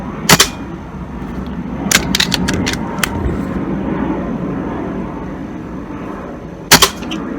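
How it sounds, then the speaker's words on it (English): Shots fired from a magazine during a chronograph test ring out as sharp cracks: one shot, a quick burst of several, then a pair near the end, over an outdoor rumble. "See, they're shooting completely different from that last magazine."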